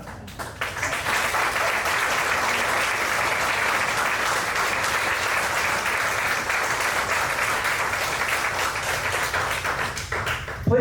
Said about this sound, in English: please stand so we can give you a round of applause along with Mrs. Bennett